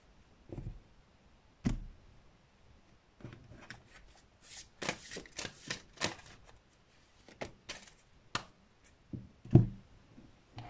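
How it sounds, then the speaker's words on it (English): Tarot cards shuffled by hand during a card reading, a few short, soft riffling bursts and taps spread across the stretch, with a denser flurry in the middle, close and quiet with no talking. "As I'm shuffling, keep breathing."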